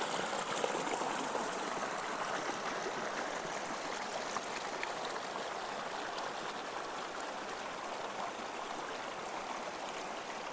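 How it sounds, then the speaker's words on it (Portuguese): Water from a small waterfall on Ilha Grande rushes steadily, a continuous close hiss and splash with no break and no voices. "Tem uma cachoeirinha aqui atrás."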